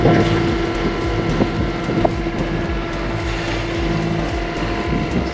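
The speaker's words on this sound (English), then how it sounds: "It's just a slow day of sailing." A sailboat on a slow day of sailing on the way to Tampa: steady broadband wind rush and water wash with a low hull drone, constant and fairly loud throughout, no voices.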